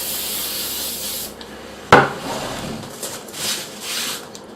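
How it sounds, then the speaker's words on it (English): A steady hiss of spray adhesive from an aerosol can runs for over a second, then stops; a sharp knock follows, then quieter rubbing and handling sounds. "take some more spray adhesive and spray that."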